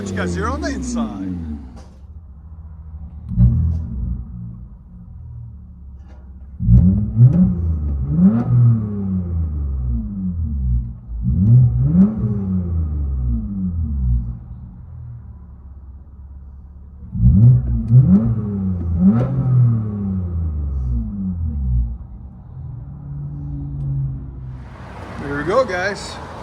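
A straight-piped 2019 Toyota Avalon 3.5L V6 is heard from the cabin, its deep engine drone rising and falling through several loud revving pulls with pauses between them, and a voice comes in near the end.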